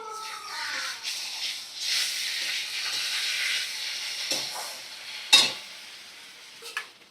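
Poppy seed paste fries in a hot pan as it is stirred, a steady close sizzle and hiss with scraping strokes and a few sharp clinks of the spoon.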